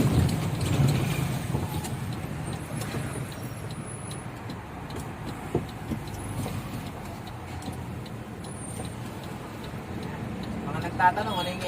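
An Isuzu FTR truck with a 6HK1 engine, running on diesel made from used cooking oil, rumbles steadily at low speed with a light rhythmic ticking, while speech is faintly present throughout.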